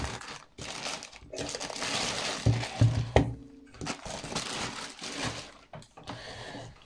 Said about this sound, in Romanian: Să o scoatem din pungă.